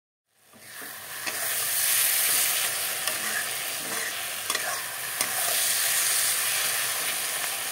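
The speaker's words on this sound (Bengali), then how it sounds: "বন্ধুরা দেখো সব কিছু একসাথে দিয়ে এখন ভাজা ভাজা করে নেব।" Dried fish chutney ingredients frying together in a pan, a close, steady sizzling hiss that starts abruptly and continues evenly throughout, with occasional faint stirring clicks and no talking.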